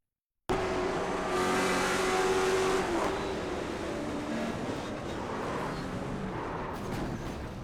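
Late model race cars roar together at New Smyrna Speedway during a chaotic crash down the back straightaway. Their engines make a loud, dense, sustained drone that eases slightly over several seconds.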